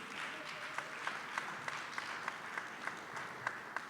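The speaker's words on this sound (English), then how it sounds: "Let's give him another round of applause to admire his work" Faint, thin clapping from a workshop audience at the NJBIC 2023 economic parity session, honoring Professor David Trout, comes through as sparse, evenly spaced claps over a quiet room hush.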